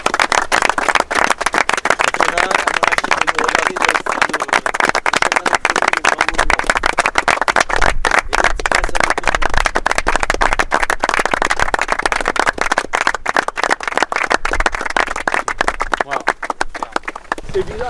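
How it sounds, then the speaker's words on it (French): A small group claps loudly and close by in a dense, sustained burst of rapid hand claps that keeps going almost without a break after reaching the 780th kilometre on the final leg. "vous pouvez vous applaudir les gars parce que c'est le fruit de tous"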